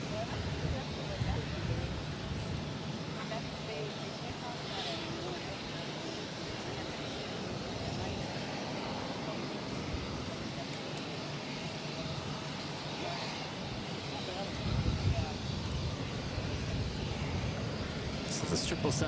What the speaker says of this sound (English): This is United Airlines 2067 taking off to Newark on the A319